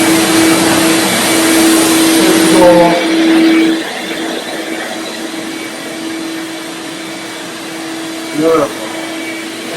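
A shop vac runs steadily in a room during a biohazard cleanup, a loud continuous whine that dips and shifts partway through as the hose moves, with a brief knock near the end.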